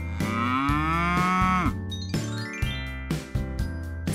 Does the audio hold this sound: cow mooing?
yes